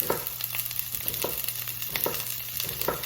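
Onions frying in olive oil for rajas con crema, a steady close sizzle broken by regular light stirring scrapes, with no talking.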